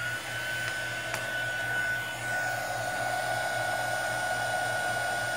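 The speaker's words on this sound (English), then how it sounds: "Mandy, I've totally destroyed your heat tool." A handheld hot-air tool blows with a steady, whooshing whine close by, a continuous motor hum with no talking.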